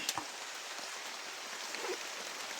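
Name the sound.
heavy rain falling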